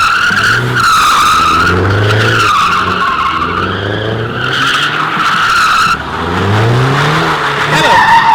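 Cars at a street car meet, including a Mustang, skid and slide with long, loud tire squeals and engine revving, several overlapping screeches close by, with people talking amid the noise.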